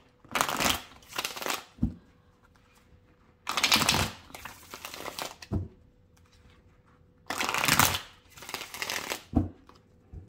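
Oracle cards shuffled and cut by hand in three separate bursts of crisp riffling, each lasting about a second or two, close and fairly quiet with pauses between them and no talk.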